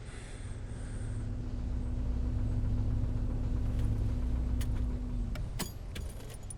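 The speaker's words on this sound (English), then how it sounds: "your car does not sound that healthy" Rough, unhealthy-running car engine in the horror video game The Suicide of Rachel Foster, a low droning hum under a stormy ambience with faint jingling, ending in a few sharp clicks and knocks.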